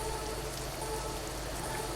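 Steady rain falls at night outside a gas station restroom, a dense continuous hiss of drops on surfaces, even and unbroken throughout.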